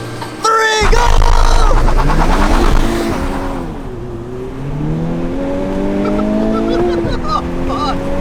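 A 2024 Dark Horse Mustang launches from a dig in a street race against an all-wheel-drive car, its engine revving hard with rising tones and tire spin. Voices are heard over the roar.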